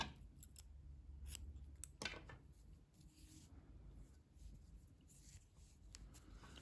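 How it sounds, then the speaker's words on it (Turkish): Scissors snip through crochet yarn in a series of quick, quiet cuts, with soft handling noise between the snips and no voices. "İpliği kesiyorum."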